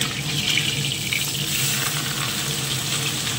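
Pabda fish frying in a pan gives a loud, close, continuous sizzle with crackling spatter that stays even throughout, with no voices.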